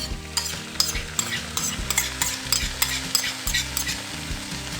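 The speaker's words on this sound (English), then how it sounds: "now we're gonna add the pasta, the tomato pasta and the sauce that we just made" Tomato paste and homemade sauce go into a pot of lentil soup and are stirred, giving a steady sizzle with rhythmic scraping strokes, close and fairly loud, with no talking.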